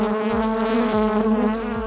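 Honeybees buzz in an opened hive during an invasive inspection, a loud, close, continuous drone with a steady pitch and individual bees whizzing past.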